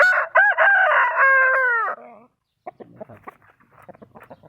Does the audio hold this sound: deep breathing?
no